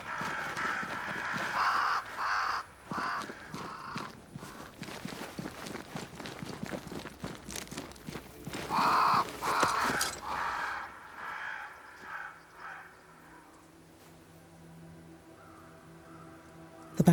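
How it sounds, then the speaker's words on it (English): Crows caw in Banishers: Ghosts of New Eden, harsh calls in a couple of short bursts amid footsteps and game ambience, fading to a quiet, low hum near the end. "Crows. They flock to that great tree up there."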